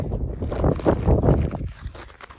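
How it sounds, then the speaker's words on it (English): Wind gusts near a cave on a hike, a rough buffeting rumble that swells and fades across a couple of seconds, loud and close against the microphone. "there's just a gust of wind right now"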